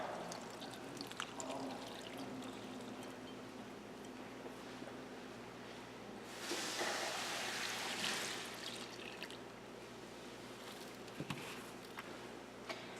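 Warm water pours steadily into a bowl of donut dough mix for a couple of seconds, a soft rushing splash rising above a quiet room background.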